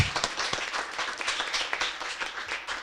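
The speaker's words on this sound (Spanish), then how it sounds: "Por favor, ya un aplauso también para Pablo." An audience applauds Pablo Ruiz, the UN resident coordinator, at a World Environment Day celebration held by Universidad ORT Uruguay and UNEP. The clapping is steady, fairly faint and scattered, lasting the whole moment.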